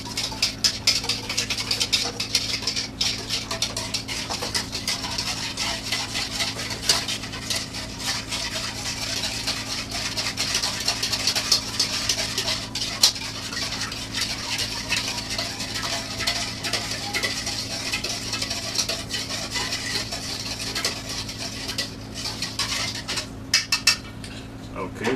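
A whisk beats sugar, salt and oil in a bowl for homemade catfish dough bait, a steady close scraping and clinking patter that runs continuously over a low background hum.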